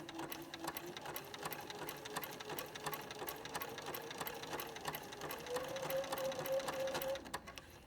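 A sewing machine stitches applique along a curved orange peel quilt border, running steadily and close up with a rapid, even mechanical chatter and a slight rise in pace toward the end.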